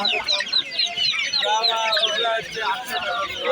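Several Brahma chickens at a busy rural market cluck and chatter busily together, close by, with overlapping calls and a voice or two mixed into the crowded noise.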